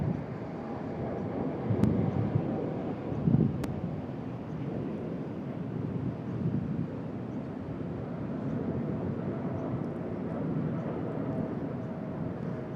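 An airliner makes its takeoff roll at Sydney Airport on a northerly breeze, a distant, steady jet roar under buffeting wind noise on the microphone, rising slightly in the first few seconds.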